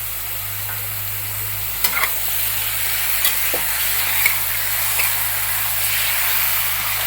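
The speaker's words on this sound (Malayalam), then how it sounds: "ഒരു കിലോ ചിക്കനാണ് ഇപ്പോൾ ഇട്ട് കൊടുക്കുന്നത്" A kilo of chicken frying in a pan, a steady hiss and sizzle with occasional scrapes and clinks from stirring, close and continuous without talk.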